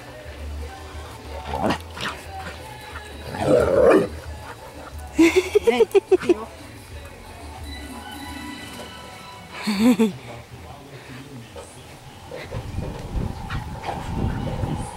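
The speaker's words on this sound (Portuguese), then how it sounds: "Porque ele é um cachorro muito pequenininho." A very small dog barks in short scattered bursts and yaps while playing on grass in a yard, with outdoor background noise and people speaking faintly nearby.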